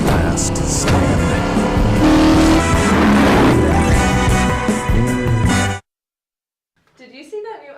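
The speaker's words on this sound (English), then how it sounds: "I will drive the car I want to drive. Charger." A Dodge Charger drives in a TV commercial, its engine and tire noise loud and dense under music for about six seconds, then cutting to silence before faint voices begin.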